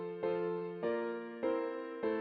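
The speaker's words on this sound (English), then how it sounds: "a resolution to the 3 minor is much weaker than other resolutions" A soft sequence of sustained chords, from a dominant chord resolving to the minor chord on the third degree, with four gentle chord changes at an even pace.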